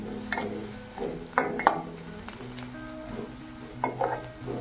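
Onion and dry coconut being stirred and fried in a pan, a soft sizzle under a few clustered scraping and tapping strokes of a spatula, close up, no talking.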